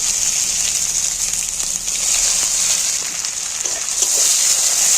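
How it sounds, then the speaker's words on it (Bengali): Onions sizzle and crackle steadily in hot oil with black mustard seeds and cumin, a dense continuous frying hiss close by with a few small pops, alone without talk. "পেঁয়াজগুলো ভালো করে একটু ভেজে নেব"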